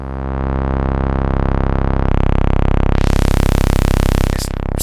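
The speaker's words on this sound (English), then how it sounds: "Seriously beefy low end combining the saw and that sub square" Fuzzy, gritty sawtooth drone from a modular synth layered with a sub square wave, a loud buzzing tone with heavy low end that gets brighter and harsher as it is tweaked, no talking.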